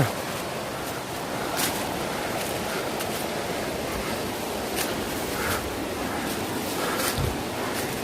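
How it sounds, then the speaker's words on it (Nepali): Steady, continuous rush of a stream flowing below in Yangjakot, a broad even roar with faint gusts of wind and no voices. "यहाँ तल हाम्रो खोला छ"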